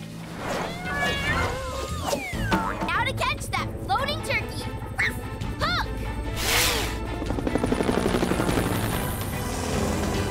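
Several kittens mew in repeated high, wavering cries over a low engine-like drone, with voices and music mixed in.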